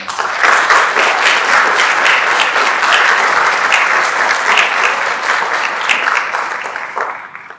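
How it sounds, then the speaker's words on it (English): Loud, sustained audience applause at a high school National Honor Society induction ceremony, a thick continuous roar of clapping that holds for several seconds before tapering off at the end. "If we can have a round of applause for our current."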